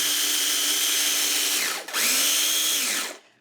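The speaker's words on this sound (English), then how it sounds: "A pinch of salt into 1 cup of the oats, and just grind these up until they're very fine." Oats with a pinch of salt whirred in a small bladed grinder until fine, a loud steady motor whine that dips briefly, spins back up, then winds down at the end.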